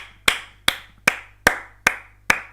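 Six single hand claps sound one after another at a steady, unhurried pace, each sharp and close, with nothing else heard between them.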